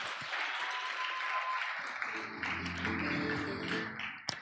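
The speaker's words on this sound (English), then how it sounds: "Another round of applause, please" An audience at a youth HIV/AIDS awareness dialogue applauds after a performance: steady, full clapping for a few seconds, with music rising beneath it partway through and a sharp knock near the end.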